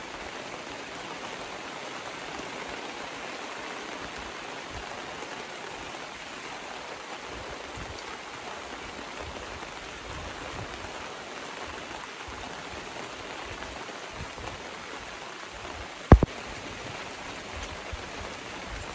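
Steady rain drums on a tent outdoors during an open-air oil painting session, a constant broadband hiss running unbroken with one sharp brief knock near the end; no voices.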